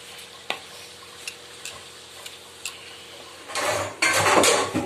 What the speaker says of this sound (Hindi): मेथी को इसमें डाल दिया और थोड़ी देर फ्राई करेंगे